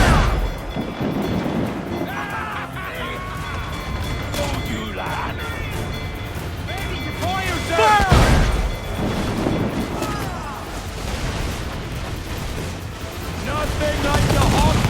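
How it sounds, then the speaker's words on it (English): Ship cannons firing in Assassin's Creed 4 Black Flag, heavy booming blasts and crashes amid a loud naval battle with shouting crew, wind and music, with the strongest blast near the middle. "To quarters all, man the cannons!"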